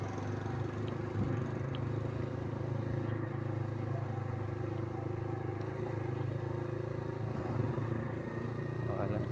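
Engine of a Motorstar 150 motorcycle running, a steady close low rumble and drone with faint clatter, holding even throughout and under occasional talk.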